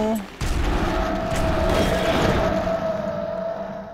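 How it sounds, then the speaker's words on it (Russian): Grenade blasts in the game DYSMANTLE: a heavy boom erupts early and rolls on into a dense, rumbling roar that slowly fades, loud and close. "Сейчас гранату вот сюда еще забросим."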